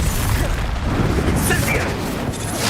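Incendio fire spell from Hogwarts Legacy: a dense, roaring blast of flame that fills the whole moment at steady loudness, with faint crackles on top.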